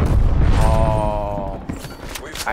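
A loud, booming explosion in Call of Duty Black Ops Cold War, set off after a player sticks an enemy with a grenade. It fills the opening second, then fades into rumbling game noise.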